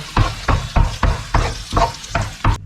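Canned tomatoes are stirred into softened vegetables in a pan for shakshuka: about eight rhythmic, close scraping strokes with a wet sizzle underneath, and no voices.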